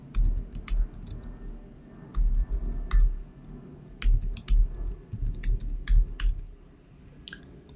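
A username and password are tapped out on a computer keyboard in quick bursts of crisp, close key clicks separated by short pauses.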